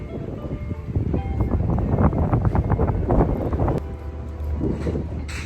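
Sea wind on the Yokohama waterfront buffets the microphone with loud, continuous low rumbling and uneven gusts throughout.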